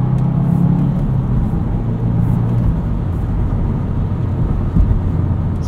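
A 2022 Subaru WRX Premium with a 6-speed manual driving on the road, its engine rumbling steadily up close, with a low drone that holds and then eases as it changes gear, plus a brief thump near the end.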